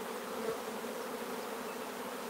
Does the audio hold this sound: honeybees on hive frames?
yes